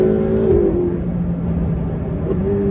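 A Ferrari 488 Pista accelerates, its engine a loud, close, sustained roar with a rising pitch that shifts and steadies across a few seconds.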